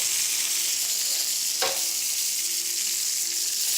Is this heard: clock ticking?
no